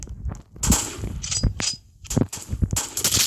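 Rapid gunshots in the shooter video game Flick, a string of sharp close cracks and clanks in irregular bursts with brief gaps between them.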